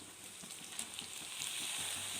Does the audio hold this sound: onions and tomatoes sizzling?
yes